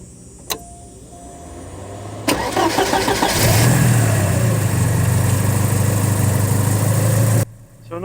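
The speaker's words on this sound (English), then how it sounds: "We'll start it up, listen to the engine, listen to the idle" A 1986 Porsche 911 Turbo starts with a short starter crank and a click. The flat engine then catches into a loud, steady, close idle before the sound cuts off.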